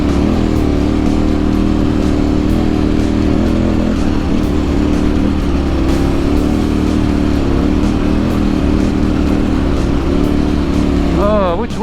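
Adventure motorcycle on Motoz Tractionator tyres working hard through beach sand dunes, its engine a continuous loud labouring drone with wind buffeting, close and unbroken for the whole stretch.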